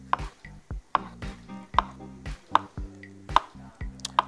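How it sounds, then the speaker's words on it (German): A knife slices lightly washed, cleaned button mushrooms into thin slices on a cutting board, with steady, evenly spaced crisp cuts and soft thuds close by. No one speaks. "schneide meine schon natürlich leicht gewaschen und geputzten Champignons"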